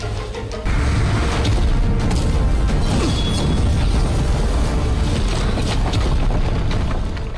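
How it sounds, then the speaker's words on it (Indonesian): Huge fantasy explosion from the animated series Perfect World, a loud sustained rumbling blast with dense low roar and crackling debris that swells in after a brief lead-in and keeps booming for several seconds without speech. "Ledakan yang jauh lebih besar terjadi daripada sebelum-sebelumnya"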